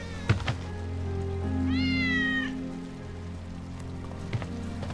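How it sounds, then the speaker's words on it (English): Wedge's cat in the video game Final Fantasy VII Remake lets out one drawn-out meow in the middle, over a steady game ambience with light rain-like patter and a few soft thumps. "That's Wedge's cat."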